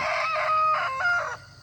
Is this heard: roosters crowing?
yes